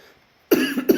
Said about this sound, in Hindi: खांसी हुई यार।